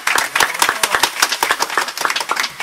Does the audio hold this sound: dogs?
no